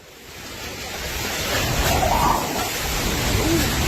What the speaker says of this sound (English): a fishing harbor in Yilan County on the northeastern coast saw towering waves slam against the shore